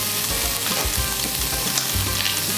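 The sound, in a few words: bell pepper and vegetables stir-frying in a wok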